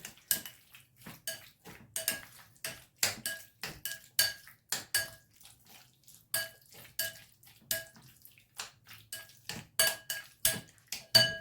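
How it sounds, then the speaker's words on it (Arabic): Chicken sandwich filling is stirred and mixed in a bowl, giving repeated sharp clinks and scrapes of a utensil against the dish in an irregular rhythm, close and alone without speech. "وغادي نحركو المكونات ديالنا كاملين، نمزجو مع بعضياتهم على هذا الشكل هذا"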